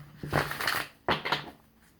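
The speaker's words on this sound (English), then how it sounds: "So I'm gonna shuffle the Psychic Tarot deck" A Psychic Tarot card deck gets shuffled in two quick, papery riffling bursts close to the listener, each lasting under half a second with a short pause between.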